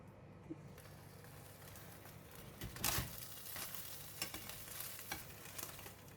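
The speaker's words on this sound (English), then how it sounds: "Grill the second batch of the fish with the same steps." Fish with chili paste, wrapped in foil bundles, grills with a soft, steady sizzle. Faint scraping runs under it, and a brief louder crackling burst comes near the middle.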